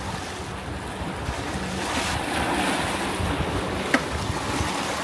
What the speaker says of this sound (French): Les vagues sont très très grosses.